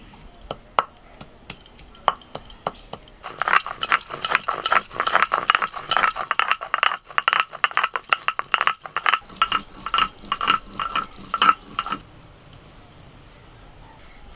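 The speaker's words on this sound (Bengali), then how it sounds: "আদা জিরে একসঙ্গে বেটে নেব" Ginger and cumin are ground together into a paste. Fast, rhythmic scraping strokes build up and continue steadily for several seconds before stopping, close and fairly loud.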